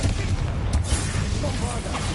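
The Confringo fire spell blasts in Hogwarts Legacy, a short run of punchy, rumbling booms with crackling bursts layered over continuous low-end battle noise.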